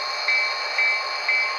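A model Soo Line railroad train runs on a basement layout detailed to the 1977 era, producing a steady tonal drone with three evenly spaced, slightly louder pulses.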